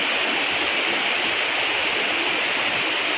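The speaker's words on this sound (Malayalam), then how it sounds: "ഇവിടെ നിന്ന് വീഴുന്ന തന്നെ വെള്ളം ഇങ്ങനെ താഴത്തോട്ട് പോവാണ്" Areekal waterfall in Pampakuda near Muvattupuzha, water pouring down with a steady, dense roar that fills the whole stretch without pause, close and loud, no voices.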